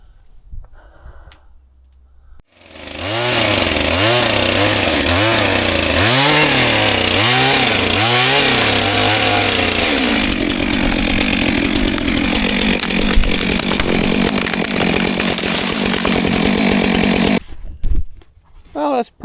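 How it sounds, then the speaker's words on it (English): A chainsaw revs in several surging pulses, then bites into wood with a long, loud, steady cutting roar before cutting off, close and alone. "hopefully I can take my other chainsaw and cut this off, not hit the chain on here"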